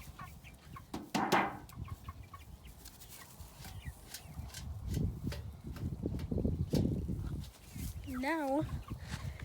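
Backyard chickens cluck and mutter in short, scattered bursts near a pen, with rustling and a brief whistle-like warble near the end, and people speaking softly in between.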